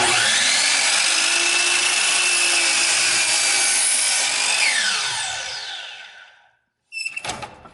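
A power saw cuts at an angle through a wooden picture frame piece, a loud steady whine and rasp that winds down over several seconds, then falls silent before a short burst of clatter near the end.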